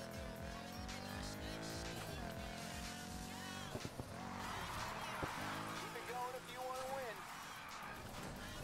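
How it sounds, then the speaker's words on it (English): A car drifts in the video game Need for Speed Heat, its engine revving loudly and shifting pitch as the tires squeal through the slide, with a sustained, dense, close roar and no talking. "See, that's a better drift."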